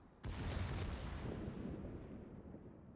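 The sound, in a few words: battleship secondary guns firing in World of Warships video game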